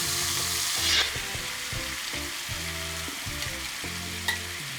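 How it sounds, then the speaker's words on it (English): Marinated paneer sizzles and crackles in hot oil in a pan, a steady frying hiss with a few louder spits and stirring scrapes, no voices. "Once the oil is heated, just drop in the marinated paneer right into the pan."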